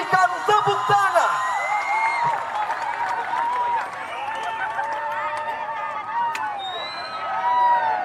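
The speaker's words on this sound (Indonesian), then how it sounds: "berikan tepuk tangan" A large crowd of students claps and cheers loudly for a visiting cleric at a religious gathering, the applause dense and continuous with whoops and shouts rising over it.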